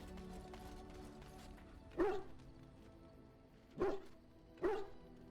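A dog from Dragon Age: Origins gives three separate sharp barks spaced a second or two apart over a low game ambience, clear and close, with no speech.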